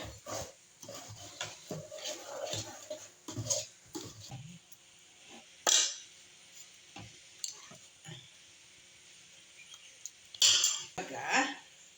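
A metal ring is set inside a frying pan to steam rice and chana dal kadubu in a home kitchen, giving a few sharp metallic clanks and scrapes amid soft handling noises while a person talks.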